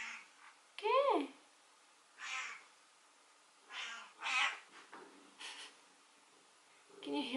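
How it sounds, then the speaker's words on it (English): A cat meows close by, a drawn-out cry followed by a few shorter, breathy calls with quiet pauses between them. "Can you hear my cat? She wants attention."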